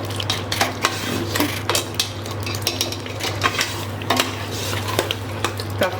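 Mutton and bitter gourd gravy being stirred and fried in a pan, with repeated scrapes and clinks of a spoon against metal over a low steady sizzle and background hum.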